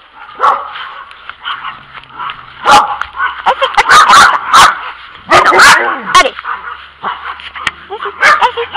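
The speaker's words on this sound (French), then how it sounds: "ma chienne, elle aboie" A female dog barks and yips repeatedly in excited bursts, close by, mixed with whimpering and some nearby talk in French.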